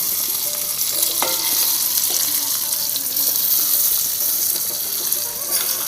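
Catla fish frying on a wood-fired clay stove, a steady hiss of sizzling oil running throughout with small pops and clinks of handling, fairly close and without voices.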